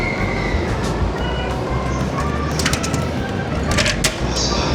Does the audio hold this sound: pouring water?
no